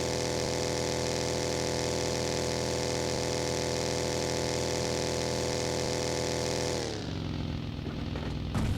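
A vehicle engine in the video game PUBG runs with a loud, steady droning hum, then cuts and shifts pitch near the end.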